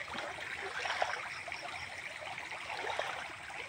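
River stream flowing steadily with a continuous rushing, gurgling wash of water, moderately loud and unbroken with no voices.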